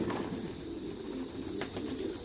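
Thai-breed pigeons on a farm in Dak Lak, Vietnam, coo softly and steadily, with a faint flutter of wings against a constant background hiss.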